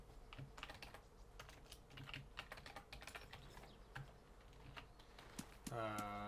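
Quick, uneven keystrokes on a computer keyboard as a chat message is typed during DayZ Standalone, light close clicks running steadily for several seconds before a louder game sound cuts in at the end.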